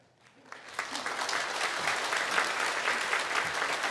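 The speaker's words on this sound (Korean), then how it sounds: "자리에서 한번 일어나 주시면 박수로 환영하도록 하겠습니다." A church congregation applauds to welcome first-time visitors during a Sunday worship service, clapping swelling up from near silence into a full, sustained round.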